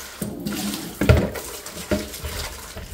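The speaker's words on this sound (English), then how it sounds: "Come, let's wash the leaves." Uma leaves washed by hand in water, a few close splashing and rustling bursts roughly a second apart.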